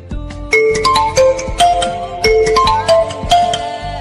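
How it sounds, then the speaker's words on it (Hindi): Mobile phone ringtone for an incoming call, a loud, clear synthesized melody of bright repeating notes in a bouncy rhythm, playing alone without voices. "किसकी कॉल आ रही है?"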